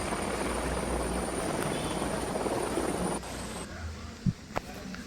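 Helicopter in the video game Granny Chapter 2, a steady rotor drone holding for about three seconds, then cutting out to a quieter background with a couple of brief knocks.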